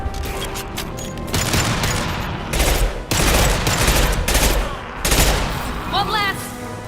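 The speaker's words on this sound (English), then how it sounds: "Firing an impact shot!" Impact shot weapon fire in the Mass Effect 2 video game: a rapid volley of loud, close gunfire bursts in several clusters, with chattering reports and a few booms, running almost continuously.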